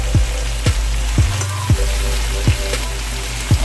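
Shrimp and sea scallops sauté loudly in a pan, some scallops still icy, giving a constant dense sizzle and crackle with regular sharp pops and spatters every second or so, close and alone.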